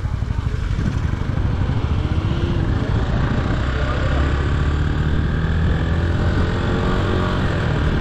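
A motorcycle engine drones steadily while riding to Pangong Lake in Ladakh, loud and close with a rough, pulsing rumble and wind noise throughout.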